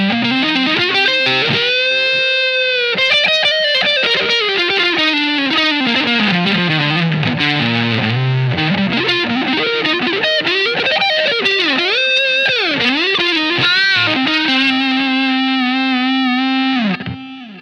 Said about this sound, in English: But here's a little taste of the fuzz.